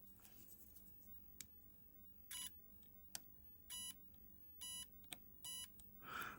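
Short electronic multimeter continuity beeps while probing components on a Nintendo Switch OLED circuit board, several separate tones at intervals alongside faint clicks of the probes, in a quiet room.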